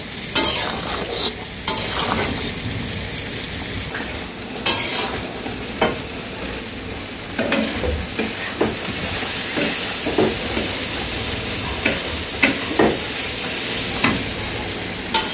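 Village-style chicken curry fries in a pan after garam masala and cumin are added, a continuous close hiss and sizzle punctuated by repeated scraping stirs and spatters, with no voices.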